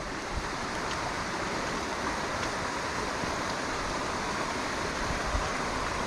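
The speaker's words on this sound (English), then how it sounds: "So you can hear the river running quite fast here" A fast-running river fed by water pouring down a hillside makes a continuous, broad rushing roar, steady and close, with no talking.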